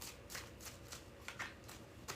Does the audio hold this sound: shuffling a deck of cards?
yes